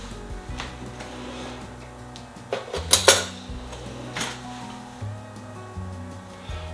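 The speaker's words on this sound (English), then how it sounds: "I like to spoon off the foam first and put that in the bottom" Milk foamed in a Nespresso frother is spooned into a glass for a chocolate mocha, with soft clinks of a metal spoon against glass and light kitchen clatter, a louder pair of clinks midway, close by with no talk.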